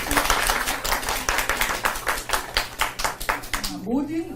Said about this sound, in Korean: 박수 좀 한번 쳐주세요.